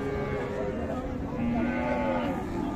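A cow lows in a long steady moo amid the busy murmur of a crowded cattle market with Sahiwal cows and calves in Raniganj, Dinajpur.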